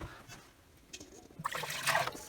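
Water poured into the tank of a Lyman Turbo Sonic ultrasonic cleaner, a returned unit under repair; a soft trickle builds into a louder, bright splashing pour in the second half.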